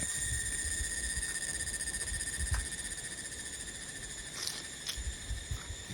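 Crickets at a lakeside park trill in steady, overlapping high-pitched tones, soft and constant, with a few faint rustles underneath and no voices.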